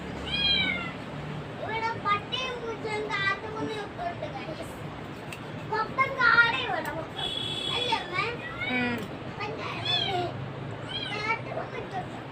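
Several drawn-out cat meows repeat across the clip, close and fairly loud, mixed with children's voices and chatter in the background.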